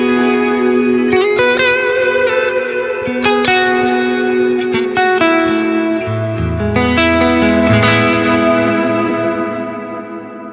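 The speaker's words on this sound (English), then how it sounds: "Dual reverb, that's a thicker sounding reverb." Electric guitar notes and chords ring out through the dual reverb of a Zoom MultiStomp MS-70CDR pedal, a thick, lush reverb, each strum lingering and blending into the next, loud and alone.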